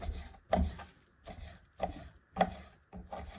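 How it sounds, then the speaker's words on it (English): Knife cutting through deer meat on a board, trimming away fatty bits, in four distinct bursts: dull thuds and scraping strokes spaced about half a second to a second apart, close and moderately loud. "just trim the big bits of fatty meat out"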